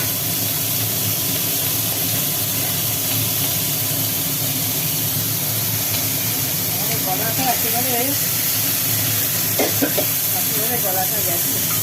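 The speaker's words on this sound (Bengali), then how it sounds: "ওই তেলের ভেতরেই চিংড়ি মাছগুলো ভাজা হচ্ছে" Fresh prawns coated in salt and turmeric fry in hot oil, giving a loud continuous hiss and sizzle throughout, with faint talking under it.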